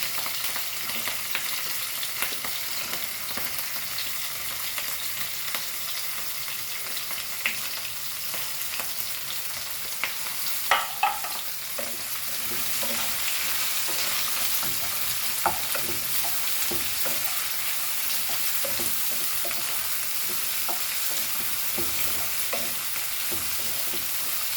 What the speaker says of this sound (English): Now we'll add our chilies to this. And let our onion go in this.